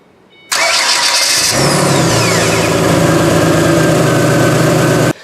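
A Ford Mustang V6 engine, fitted with a new starter, cranks briefly and fires up, settling into a loud, steady running idle close by with no talking.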